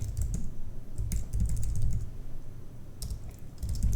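Steady keystrokes on a computer keyboard while a terminal login command is entered, a close, continuous run of clicks with brief pauses, no talking.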